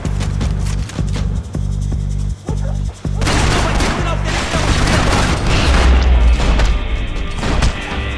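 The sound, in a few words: gunfire in the video game Max Payne 3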